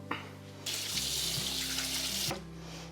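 Tap water runs steadily into a kitchen sink as a beef steak is rinsed under it, a close, continuous splashing gush that starts abruptly and cuts off after about two seconds, with no talking.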